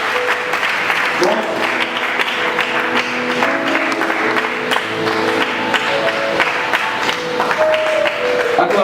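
Church congregation applauding during a Sunday worship service, steady dense clapping from a large crowd that runs through the whole stretch, with voices and music tones mixed underneath.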